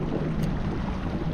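Newport NK180PRO electric kayak trolling motor running at full throttle while the kayak spins in place on the water, a steady dense churning hum with wind buffeting the microphone throughout.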